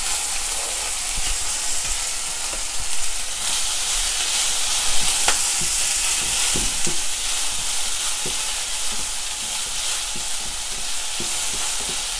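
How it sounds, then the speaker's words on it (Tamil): Chopped large onion fries in a pan on medium heat with a steady, loud sizzle and hiss, and occasional spatula clicks and scrapes stand out over the constant crackle. "வெங்காயத்தை போடுறேன்."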